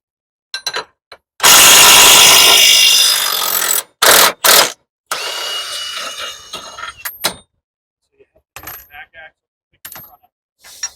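Power tool spinning corrosion off a truck axle, a loud grinding burst of a few seconds followed by short intermittent whirs and clanks, close to the microphone with no talk.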